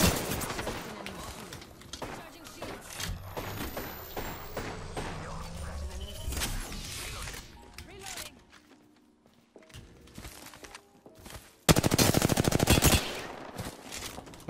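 Apex Legends gunfire during a match, bursts of rapid automatic shots crackling at moderate distance, then a quieter stretch and a final loud burst near the end, with game sounds mixed in.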